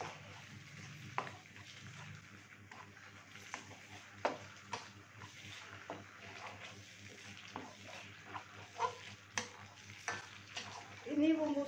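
Soto Padang spice paste stirred and frying in a pan, faint soft sizzling with intermittent scraping clicks of a spoon, quiet and steady throughout.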